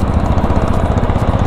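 Motorcycle engine of a Classic revving with throaty exhaust on an open road, a steady, loud, dense rumble with rapid pulsing throughout, no talk over it.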